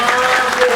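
An audience claps steadily at a Balinese drama gong performance, a dense, loud burst of crowd applause heard close up, with a voice faintly underneath.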